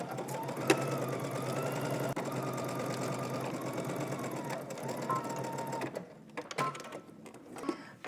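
A sewing machine runs one continuous side seam of a wrap dress at a 5/8-inch allowance, a steady close mechanical whir for about six seconds before it stops, followed by a few handling knocks.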